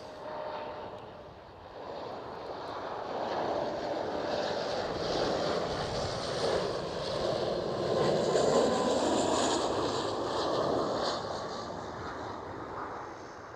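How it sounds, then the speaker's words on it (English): A KLM Cityhopper Embraer E190 arriving at Schiphol Airport in Amsterdam, its jet engine roar swelling from a distance into a broad, loud rumbling whine before fading, with some wind buffeting the microphone. "So this is KLM Cityhopper E190."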